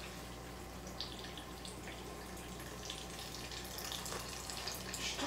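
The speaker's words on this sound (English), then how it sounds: "It's time that you poured the soup" French onion soup poured from a pot into a bowl in a home kitchen, a faint continuous liquid trickle and splash that runs steadily throughout, quiet and close, with no talking.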